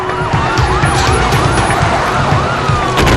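Police sirens wail loudly nearby, several overlapping rising and falling tones over rumbling traffic noise, with a sharp burst near the end.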